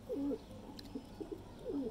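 Salara Teddy pigeons at a Lahore breeder's loft give soft, low coos, two fuller calls at the start and end with fainter murmurs between, close by and with no talking.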